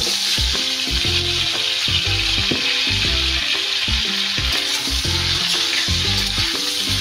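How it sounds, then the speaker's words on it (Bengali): Cauliflower fries in hot oil with a steady, loud sizzle, continuous throughout, with a melodic music track playing underneath. "এখন আমি ফুলকপিগুলো ভেজে নেব।"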